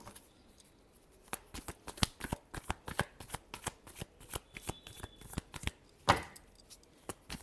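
Tarot cards shuffled by hand, a quick run of crisp riffling flicks and slaps, close and clear, with a longer burst of shuffling near the end and no talking over it.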